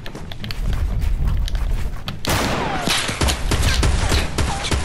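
Rapid gunfire bursts crackle in a duos sniper shootout video game, close and loud with scoped rifle shots and a sharp blast near the midpoint, dense rattling continuing throughout without talk.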